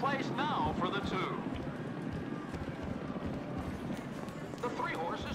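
Racing horses gallop in a GTA V casino horse race, a dense, steady rumble of hoofbeats and crowd noise running throughout, with a commentator's voice over it.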